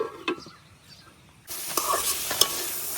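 Small local potatoes frying with sidol, a fermented fish paste, for a Netrokona-style spicy jhura; a faint stir and clink at first, then a sudden loud hiss and sizzle that carries on to the end.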